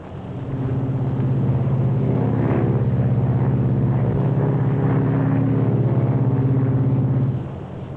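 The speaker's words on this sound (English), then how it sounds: "It's a wonderful airplane, that Silver Falcon." Steady, droning cabin engine noise aboard an Eastern Air Lines Silver Falcon propeller airliner in flight in 1953, loud and constant with a low, even hum, easing off slightly at the very end.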